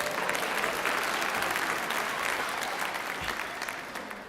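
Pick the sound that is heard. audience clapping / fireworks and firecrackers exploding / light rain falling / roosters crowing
audience clapping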